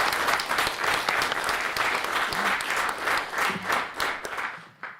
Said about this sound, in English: How about uproarious applause for everybody?